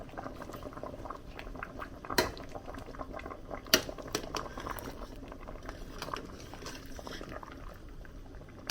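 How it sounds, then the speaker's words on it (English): Soup simmering in a pot on a stove, a steady boiling bubble and patter running throughout, with two sharp clinks of a utensil or lid against the pot standing out, no talk. "So I'm gonna let the soup slow cook"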